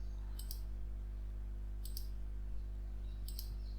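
Computer mouse clicks while working in Creo Parametric software: three crisp, isolated clicks spaced about a second and a half apart over a steady low electrical hum.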